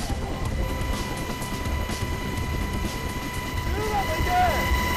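Inside a military helicopter during a Marine Corps high-altitude infiltration training flight, a constant loud rotor and turbine roar with wind noise fills the cabin, with a voice speaking over it.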